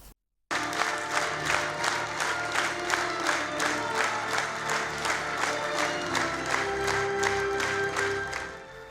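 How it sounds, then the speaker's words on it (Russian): A theatre audience gives sustained, loud applause after the premiere of a historical drama, dense rhythmic clapping filling the hall with a faint crowd murmur beneath and no break for the full duration. "После спектакля долгое время в зале не стихали аплодисменты"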